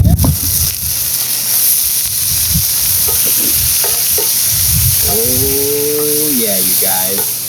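Peppers and garlic sizzle and get stirred in a hot pan over an outdoor cooking fire for pepper steak, a loud steady frying hiss with scraping stirs. A voice comes in briefly near the end.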